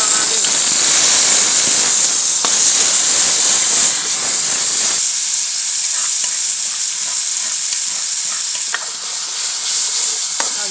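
Oil in a pan over too high a flame hisses and sizzles loudly and without a break. The roar eases slightly partway through but keeps a harsh, close, steam-like rush.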